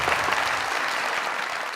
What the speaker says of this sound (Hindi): फिर इनके तो तालियां साजन साहब के लिए